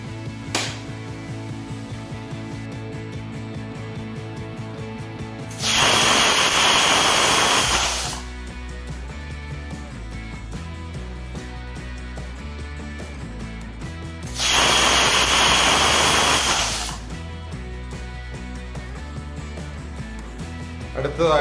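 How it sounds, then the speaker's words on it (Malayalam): A pressure cooker on the stove cooking beef releases two loud, sustained bursts of hissing steam, each about two seconds long, over a steady background hum with no talk. "നമുക്കിത് അടച്ചു വെച്ച് 2 വിസിൽ വരുന്ന വരെ വേവിക്കാം."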